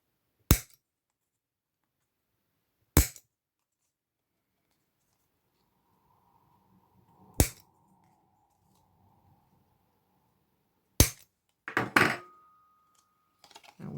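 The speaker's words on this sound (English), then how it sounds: "clip the corners" A handheld corner punch clips the corners of folded paper tickets in sharp, isolated snaps spaced a few seconds apart, followed by a quick cluster of crisp clicks and paper rustles at the end.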